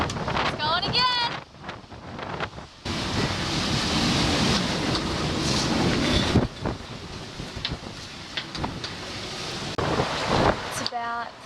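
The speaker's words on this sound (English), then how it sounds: "So the wind's been blowing consistently, about 30 knots" Strong wind at sea on a sailboat near Martinique at night, blowing about 30 knots: a loud, continuous roar of gusts and rushing water that swells and eases, with people's voices heard briefly around it.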